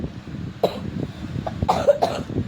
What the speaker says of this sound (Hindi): तुझे तो खांसी हो रही है भाई।